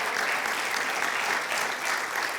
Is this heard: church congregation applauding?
yes